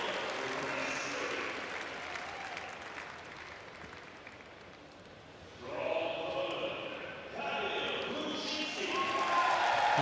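A crowd at an indoor track cycling velodrome during a UCI Track Cycling World Cup in Glasgow claps and cheers steadily, with the applause swelling partway through while a commentator talks over it.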